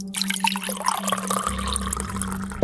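Water poured from a tap or container into a drinking glass, with steady splashing and trickling close by for a few seconds, a low hum underneath and no talking.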